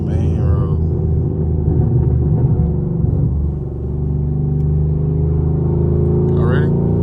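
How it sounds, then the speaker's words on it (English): A 6th-gen Chevrolet Camaro SS pulling hard on a main road, a loud, deep engine rumble that drops briefly and then builds again, with someone talking over it. "I'm gonna give y'all guys a pull on the main road."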